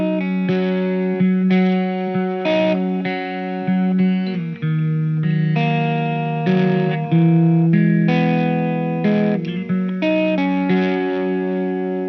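Electric guitar played through crunch-gain distortion, with sustained overdriven chords and notes in a steady, loud strumming pattern, no voices.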